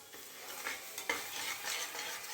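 Cumin seeds, dried chillies and a bay leaf spatter in hot oil with turmeric, a steady close hiss flecked with small crackles and a few stirring scrapes, no voices.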